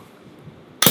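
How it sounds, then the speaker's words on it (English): A homebrewed, carbonated holiday ale bottle pops open with one sudden loud burst near the end, after a quiet stretch of soft room noise. "let's go ahead and pop the bottle open and see how it turned out."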